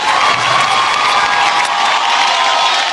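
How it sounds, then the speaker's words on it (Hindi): A large awards-show audience at the Star Guild Awards cheers and shouts in a dense, steady roar that fills the hall for the whole moment, with scattered whoops rising above the crowd. "जोरदार तालियां फॉर स्टार गिल्ड अवार्ड्स।"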